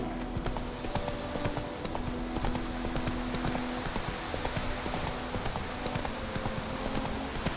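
Roach the horse gallops through The Witcher 3: Wild Hunt with steady, rapid hoofbeats that run throughout, mixed with game music and ambient sound.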